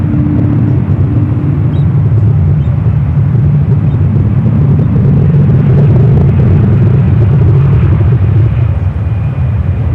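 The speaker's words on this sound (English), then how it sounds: "got that Delta 757 now rolling down to 28 left" A Delta Boeing 757 rolls down runway 28 left at San Francisco airport, a loud, steady low engine rumble that holds constant throughout.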